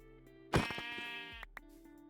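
A sheep in a Minecraft-style video game lets out one sharp bleat, quiet and clean against near silence, followed by a couple of small click-like game sounds.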